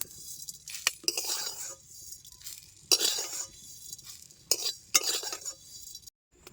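A metal spoon scrapes fried pickle spices out of a pan onto a plate in bursts of scratchy scraping and clinking, with short quiet gaps between strokes and no talking.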